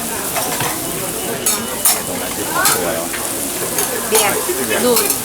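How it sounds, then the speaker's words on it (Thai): Blanched ramen noodles frying on a griddle for Hiroshima-style okonomiyaki, a steady sizzle with intermittent scraping and stirring clatter, fairly close and continuous, with faint background chatter. "เขาก็จะเอา เส้นราเมนที่ลวกน้ำเรียบร้อยแล้วนะเอามา เอามาทอดก่อน"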